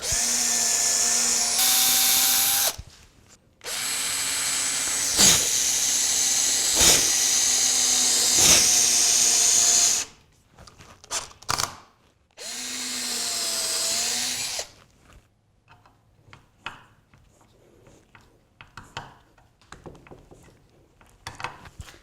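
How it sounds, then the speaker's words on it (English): Electric drill fitted with a 1/8 inch bit pre-drilling screw holes in wood for a Moxon vise: several loud, sustained whirring bursts of a few seconds each, separated by pauses, then quieter handling clatter at the end. "I've got an 1/8 inch drill bit into my drill"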